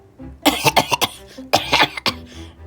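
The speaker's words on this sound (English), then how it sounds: "please pardon my cough" A voice coughs in a rapid series of harsh, throaty bursts, pauses, then coughs again several more times, close and loud.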